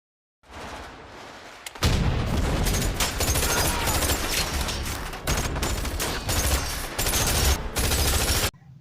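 Sustained gunfire crackles through a film shootout between robbers and Vertigo guards, dense volleys of shots rattling almost continuously for several seconds with brief gaps.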